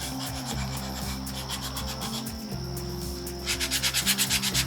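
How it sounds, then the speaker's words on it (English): A small gator sander runs with 180 grit sandpaper over the edges of a wooden sign, a steady close rubbing whir with a low motor hum that swells into pulsing strokes near the end. "I'm going to take my little gator and I'm going to sand my edges with a 180 grit sandpaper"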